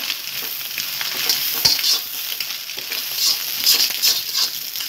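Shredded cabbage stir-frying for chicken fried rice, a loud close sizzle with repeated scraping and tossing of the ladle in the pan, rising and falling over several seconds, with no voices.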